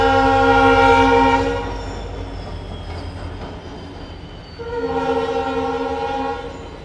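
The Mysuru Belagavi Vishwamanava Express arrives with a loud, sustained multi-tone horn blast, then a rumbling pause of wheels on track, followed by a second long horn blast, close by and with no talking.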